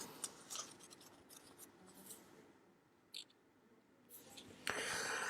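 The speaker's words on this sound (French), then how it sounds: "Il faut le mettre bien à ras et le couper correctement." Scissors cutting paper, with short quiet snips and rustles close by and a brief louder scrape near the end, no talking.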